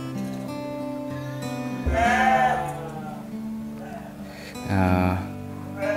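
Dorper sheep bleating in a pen at a farm, two loud wavering bleats standing out over steady background tones and other animal noise, near and clear.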